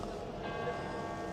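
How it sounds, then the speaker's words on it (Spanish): Church bells ring in Rome near Piazza San Pietro, heard faintly and continuously as a distant, steady wash under street ambience. "pues estáis oyendo las campanas"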